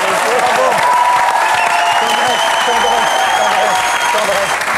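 A studio audience on a French comedy show applauds loudly and continuously, dense clapping mixed with crowd cheers while a voice talks over it.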